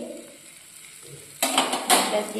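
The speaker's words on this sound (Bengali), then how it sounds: "দেখুন এখন ভাজা হচ্ছে চিজ পনির মশলা রুটি বাটার দিয়ে" Cheese paneer masala roti frying in butter in a pan, a quiet start giving way to a loud, crackling sizzle with scraping stir sounds near the end.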